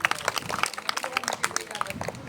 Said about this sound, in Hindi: तालियां बजा दो।